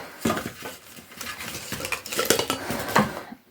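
Close, busy rattling and clattering of hard plastic parts of a Braun blender, including its plastic bowl, being handled and shifted, with bright clicks and knocks throughout.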